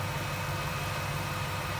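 A Jeep Wrangler with a swapped-in LS V8 idles steadily and continuously, a close, even low rumble with no talk over it.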